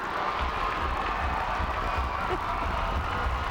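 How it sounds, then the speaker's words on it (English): A packed high school gym during a 1997 boys' basketball game between Quincy, IL and Moline, IL, a steady, dense crowd roar with yelling blending into one continuous wall of noise. "You can hear the crowd in the background."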